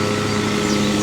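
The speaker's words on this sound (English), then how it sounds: "Is everyone in the world mowing their yard today?" A lawn mower runs nearby as a constant droning hum, loud and unbroken for the whole brief stretch.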